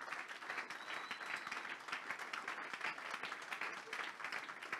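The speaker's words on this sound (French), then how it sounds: "Aidez-moi à acclamer les couples pastoraux" A church congregation applauds pastoral couples during a Sunday service, a dense continuous clapping from many hands throughout, fairly distant and even.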